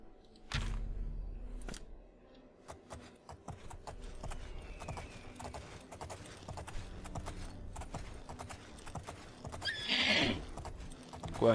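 Horse hooves clip-clop steadily in Oblivion, the Elder Scrolls IV game, with a clear whinny near the end and a spell or ambient swell underneath; brief speech is faintly present.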